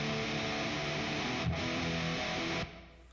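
Electric guitars run through Guitar Rig 5 amp-simulation distortion play a dense, sustained fuzzy chord passage that stops abruptly near the end.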